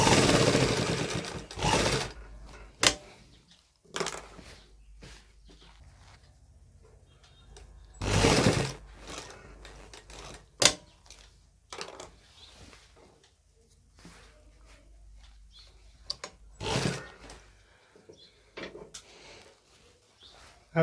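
An electric sewing machine stitches the back pocket of a man's trousers in short, intermittent runs, with quiet pauses between bursts of whirring.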